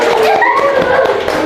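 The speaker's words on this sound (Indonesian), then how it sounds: "Tepuk tangan dulu, tepuk tangan." Students in a classroom applaud with a loud, dense patter of clapping hands, while a few voices and some laughter mix in over it.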